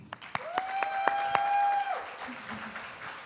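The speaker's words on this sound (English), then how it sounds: "Huge round of applause, please" An audience at a hospitality leadership summit applauds as a hotel group president is called up, with scattered sharp claps under a steady sustained tone that fades out after about two seconds.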